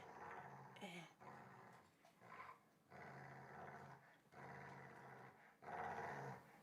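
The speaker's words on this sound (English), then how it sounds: "Why are you barking at me?" A dog growls in repeated drawn-out bursts while tugging on a toy during play, close and rumbling, with short gaps and a higher whimpering yip near the start.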